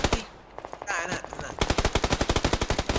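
Video game gunfire erupts as a loud, steady burst of rapid automatic shots, about a dozen evenly spaced cracks, after a brief stretch of noisy background.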